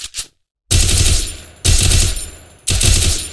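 Loud, close bursts of automatic gunfire in the mobile shooter game Free Fire: three sustained rapid-fire volleys with brief pauses between them, after a short quiet opening.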